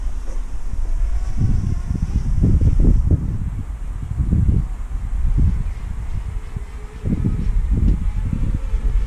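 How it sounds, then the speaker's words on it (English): Gusty wind buffeting a microphone outdoors, heard as loud low rumbling bursts that swell and fade repeatedly with no voices. "yeah, it's a bit windy."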